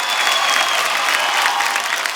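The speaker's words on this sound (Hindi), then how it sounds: "एक बार जोरदार तालियां।" Sustained audience applause fills a large hall at the 21st Indian Television Academy Awards 2021 as Ranveer Singh stands on stage; the clapping stays dense, even and loud throughout, with no break.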